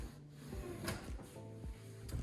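A roll-out pantry drawer on a Grass Vionaro runner system in a modern kitchen, a short quiet slide and soft clunks of the drawer moving, faint and close with no talk.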